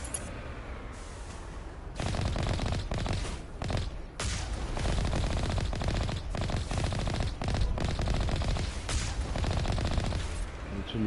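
Sustained automatic gunfire in the Mass Effect Legendary Edition video game, dense continuous bursts with brief gaps, loud and close throughout.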